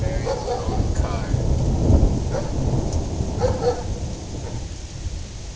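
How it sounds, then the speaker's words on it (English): A thunderstorm with rain in Pobyeda: a steady wash of rainfall with low, rolling thunder rumbling beneath it, heard continuously throughout and no voices. "Did you know that the safest place you can be during a thunderstorm is in your very own car?"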